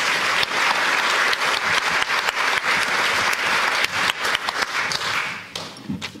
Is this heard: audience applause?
yes